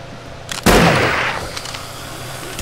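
A single sharp gunshot in the video game 7 Days to Die cracks loudly and decays with a short rumbling tail, preceded by a faint click.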